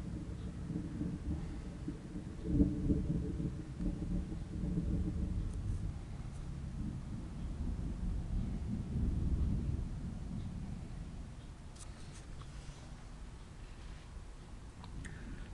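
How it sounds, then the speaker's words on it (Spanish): Thunder rumbles outside during a Florida rainstorm, a low continuous roll with a sharper crack early on and swelling waves of rumble, steady rain-like hiss underneath, no talking. "Si oyeron algún ruido es que está tronando fuera"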